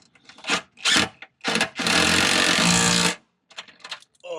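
A borrowed drill driver runs bolts on a Jeep Wrangler TJ: several short bursts of whirring, then one long steady run of about a second and a half, close and loud, followed by a few brief trailing spins.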